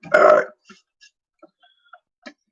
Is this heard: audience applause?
no